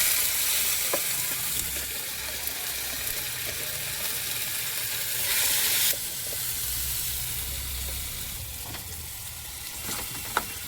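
Spices and tomato paste fry in a hot pan with a steady, close sizzle and hiss, broken by occasional scraping stirs and brief bursts of louder spitting.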